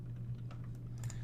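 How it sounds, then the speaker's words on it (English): Computer keyboard keys are pressed at a desk while testing a robot's web interface, a few soft, quick clicks over a steady low electrical hum, with no talking. "So I'm pressing the keys and nothing's happening."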